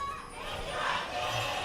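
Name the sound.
KT Rolster fans chanting a double cheer at LCK match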